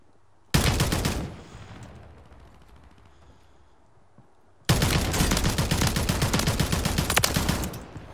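Gunfire in Call of Duty Warzone: two loud bursts of rapid automatic fire, a short one near the start and a longer sustained one toward the end, separated by quieter game ambience.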